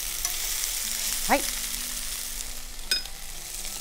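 Pork and new potatoes fry in a pan with a continuous crackling sizzle, a couple of short clinks of a utensil against the pan, and a brief spoken word.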